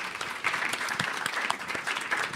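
A room full of people claps at a cultural candidate forum in King County, the applause continuous and moderately loud, with individual sharp claps poking out of a steady wash throughout.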